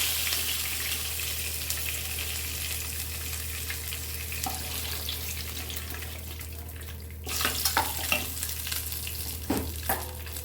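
Koi fish fry in mustard oil with a continuous close sizzle, then louder clinks and scrapes of a utensil toward the end as the fish are lifted out.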